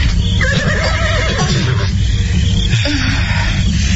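A horse whinnies loudly over a dense, rumbling outdoor background, the neigh rising and wavering through most of the stretch with no talking.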